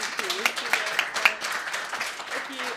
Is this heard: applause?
yes